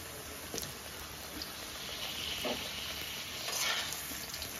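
Cut potatoes frying in hot oil with cumin seeds, a constant close hiss and crackle of sizzling with a few faint scraping clicks as they are stirred.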